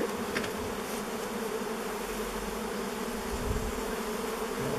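Honeybees droning steadily in a hive that has stayed unopened for over thirty years, now lifted open, a continuous close dense buzz filling the whole stretch with no talk.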